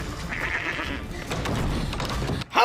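A goat bleats in a TV drama scene, a sustained nasal cry early on over a steady ambient bed, followed by a sudden louder burst at the very end.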